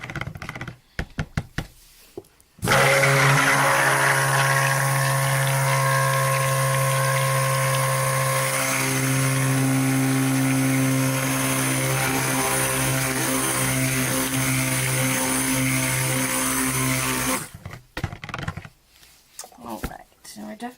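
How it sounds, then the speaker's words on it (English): A stick blender churns cold process soap batter for a Sweet Pea soap, a steady, loud motor whir running about fifteen seconds and cutting off abruptly, with brief knocks and clatter before and after. "So I'm going to stop with the stick blender"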